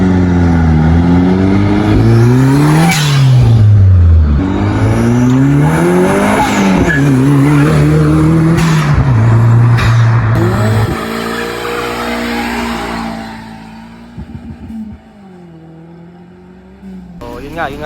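A turbocharged car engine with a hood exit exhaust revs hard in repeated loud rising and falling sweeps, then drops to a quieter idle with a few short blips near the end.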